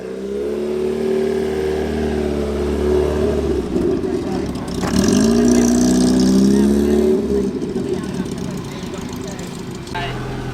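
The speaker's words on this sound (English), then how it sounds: "There goes the bonny little Austin 1100. Nice early one." An early Austin 1100 classic car pulls away at a February classic car meet, its mid-pitched engine note swelling and fading under steady crowd chatter and nearby talk.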